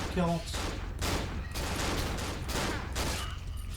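Gunfire in the horror video game Cry of Fear, a rapid series of loud, dense shots packed together across the whole stretch, with a brief voice at the start.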